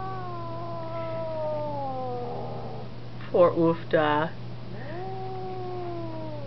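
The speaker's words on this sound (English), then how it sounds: "There's another kitty." A young spayed female cat, around a year old, lets out long, drawn-out meows that rise into a wavering caterwaul. A person speaks briefly between the cries.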